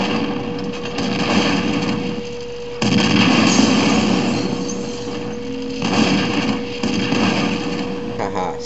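A big robot in F.E.A.R. fires its heavy gun in long, loud, rumbling bursts with short breaks between them, close and dominant over the game's background noise.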